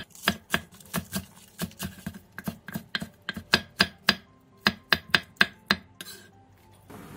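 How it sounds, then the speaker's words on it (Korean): Rapid, rhythmic knife chops slicing onion on a cutting board, about two dozen crisp strikes in quick succession that pause briefly before ending. "양파를 채 썰고 청양고추와 대파는"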